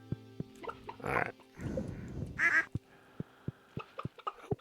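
Ducks in the video game Stardew Valley give several nasal quacks over the game's soft background music, with short clicks and tapping sounds scattered around them.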